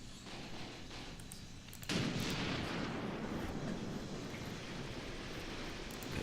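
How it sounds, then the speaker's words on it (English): Enemy tanks fire in a Graviteam Tactics war game, a dense rumbling barrage that starts abruptly about two seconds in and rolls on continuously as heavy, distant-sounding booms and roar. "And we could see the enemy tanks firing away."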